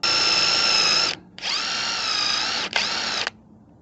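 A power drill bores a second screw hole while a backyard gate is hung on new hinges, with three close, loud whirring bursts: one long run, a brief pause, then two more, with no talking.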